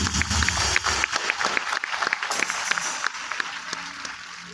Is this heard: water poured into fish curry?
no